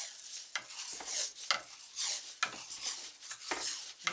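Blue painter's tape is wrapped around the end of a PVC pipe, a close, soft sequence of rubbing and sticky peeling rasps with sharper crackles every second or so.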